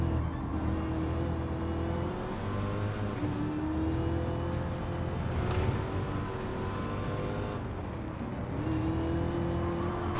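Race car engine in Gran Turismo 7 on the Nürburgring Nordschleife, passing a Corvette, holding a steady high drone with rising and falling pitch through gear shifts, loud and alone with no talk.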